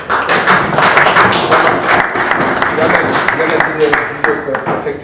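An audience at a German parliamentary party faction event claps continuously in dense applause, loud and close, with a voice audible underneath.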